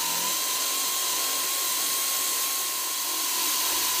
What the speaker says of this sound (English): When the hole saw cuts through the service, you will hear a change in the note of the air ratchet